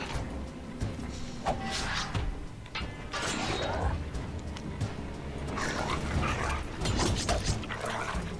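A dog in the Game of Thrones video game, yipping and whimpering in short bursts amid clanking mechanical game sounds, fairly close and alone.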